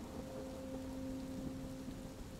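Heavy rain pounding as an audiobook sound effect, a dense, steady wash of downpour hiss with a faint low hum underneath, continuous and without talk.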